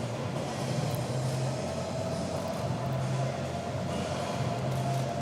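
A train sound effect within subway-chase themed music for an artistic swimming routine at a youth championship, a steady rumbling rail noise with repeated low pulses that recur every couple of seconds.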